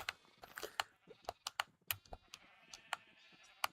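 Sheep bleating in the Minecraft video game, several short bleats scattered among sharp clicky taps, fairly close and without talk.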